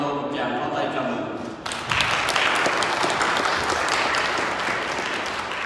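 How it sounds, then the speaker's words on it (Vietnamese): After a moment of talk, a church congregation at Mass bursts into warm applause welcoming a visiting priest, a dense, sustained wash of clapping that fills the room and holds steady to the end, with voices faintly underneath. "Xin mọi người chúng ta cho cha Paulo một tràng pháo tay chào mừng"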